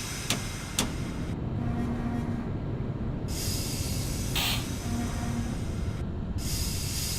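An R62 subway train on the 3 line departs 14th Street in Openbve, with a continuous low rumble, hissing air bursts and brief tonal beeps as it pulls away. No one speaks.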